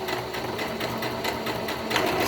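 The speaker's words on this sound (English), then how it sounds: "Now we're gonna just sew." A sewing machine stitches a fabric face mask, running in a steady, continuous whir at close range with no talk over it.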